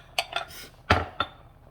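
A metal lid is set onto a cooking pot on a stovetop, giving a few close clinks and clatters: two quick taps, then a louder clank and a final lighter knock, with no talking.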